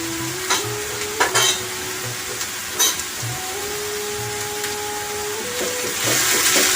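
Red chili and coriander powders frying in a pan for Bengali bhetki fish croquettes, a soft steady sizzle broken by a few clinks and scrapes of stirring, with a faint steady hum in the background and no talk.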